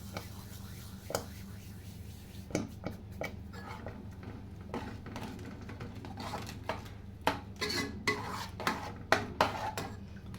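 Dried fenugreek leaves crushed by hand into a pan in a home kitchen while cooking a large batch, with soft rustling, scattered clinks of utensils against the pan and light knocks growing busier toward the end, with low speech underneath.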